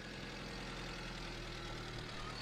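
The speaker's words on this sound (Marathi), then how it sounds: "आमिर हा अरे हाफ स्टार्टरला चालू होती." A car engine idles steadily after being half-started, a constant low rumble with faint knocking texture running throughout, with no talk over it.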